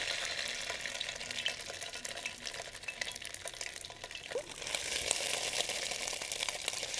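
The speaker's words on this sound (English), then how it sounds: "Love that sizzle." Tomato paste sizzles in a hot pot, a soft, steady crackle and hiss at low volume with faint stirring scrapes, and no talking over it.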